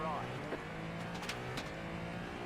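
A race car engine drones continuously in the iRacing simulator, steady and loud with slight shifts in pitch, while someone talks over it.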